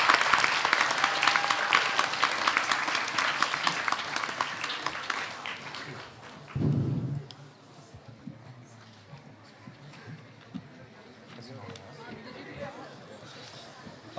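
An audience at a university presidential debate applauds the four candidates, a dense round of clapping for about six seconds that stops abruptly, followed by quieter room noise and scattered murmuring.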